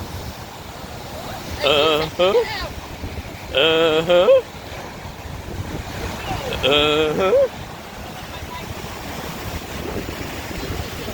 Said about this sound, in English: those are some pretty good sized waves right there